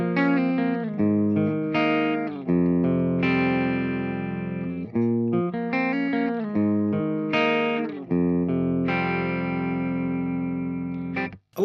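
Electric guitar on the bridge humbucker through an amp's clean channel, playing chords and arpeggiated notes with a bright, ringing tone, sustained phrases separated by short pauses, ending abruptly.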